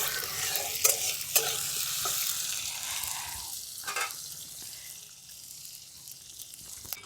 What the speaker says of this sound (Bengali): টমেটোটা আমি একটু ভাজা ভাজা করে নিয়েছি